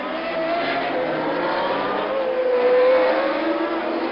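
1979 Formula 1 race cars at the Long Beach Grand Prix street circuit, a sustained loud engine roar with rising and falling pitch as several cars run close together.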